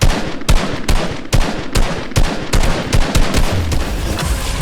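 Rapid bursts of gunfire from the video game Fortnite ring out loud and near, with repeated sharp shots arriving in quick uneven volleys and no one speaking.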